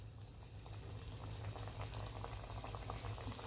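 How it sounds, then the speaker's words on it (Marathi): Steamed dhonde fry in hot oil with a continuous soft sizzle, dotted with small pops and crackles, fairly quiet and close. "आता आपण हे राहिलेले तळून घेऊया"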